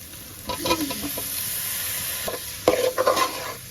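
Tomatoes go into a frying beef curry and get stirred, a steady sizzle with bursts of scraping spoon strokes against the pan, close and clear.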